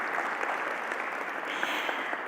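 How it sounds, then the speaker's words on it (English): An audience at a ministerial summit gives a round of applause for a speaker, steady moderate clapping from a sizeable crowd that continues throughout with no pauses. "A round of applause for Julie"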